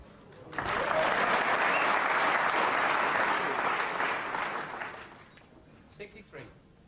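Crowd applauding at a 1992 World Snooker Championship first-round match, loud sustained clapping that swells quickly, holds for several seconds, then fades out with a few scattered claps.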